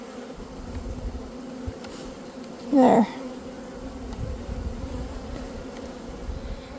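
A steady, close hum of honey bees fills a nucleus colony box, swelling briefly louder near the middle while someone says a single word.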